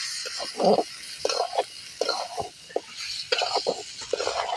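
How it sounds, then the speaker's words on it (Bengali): Potato curry cooking in a pot on an outdoor makeshift fire, with repeated scraping stirs and a soft sizzle coming in irregular bursts, close by and moderately quiet. "তো দেখতে পাচ্ছ রান্না চলছে, রান্না হবে সবিন আলুর ঝোল।"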